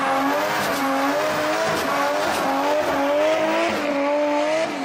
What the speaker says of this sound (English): Can you put your burnout in the screen here for me